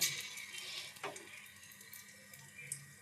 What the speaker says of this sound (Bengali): দিয়ে বড়াগুলোকে ছোট্ট ছোট্ট করে ছেড়ে দিলাম তেলের মধ্যে